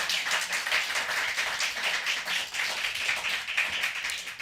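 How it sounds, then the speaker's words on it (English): An audience at a poetry festival applauds, a steady spread of many hands clapping at moderate loudness, with no speech over it. "give all of them a round of applause"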